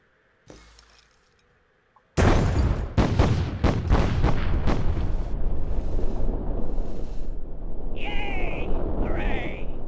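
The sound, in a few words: satchel charges exploding in video game Myth: The Fallen Lords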